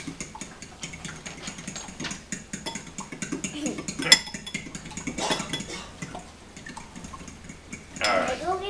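Eggs stirred in a bowl for a breakfast pizza: a utensil clinks and scrapes rhythmically against the bowl, close and moderately loud, with a few sharper knocks.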